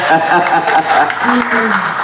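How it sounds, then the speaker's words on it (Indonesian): A crowd at an Indonesian discussion event claps steadily while a speaker talks in Indonesian over the applause. "Tepuk tangan dulu buat panitia kita, keren acaranya."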